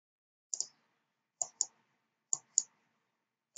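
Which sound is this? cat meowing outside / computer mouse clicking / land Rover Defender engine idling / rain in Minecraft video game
computer mouse clicking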